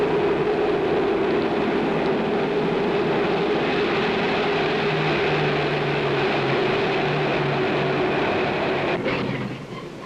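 A 1950s mail train passing at speed, a loud continuous roar and rumble of wheels and cars held steady at close range for several seconds before fading away at the end.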